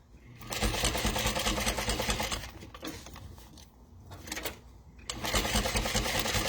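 A sewing machine stitches fabric and vinyl for a Boon wallet, running close and loud in long continuous bursts with a brief slowdown and pauses in the middle before resuming at full speed.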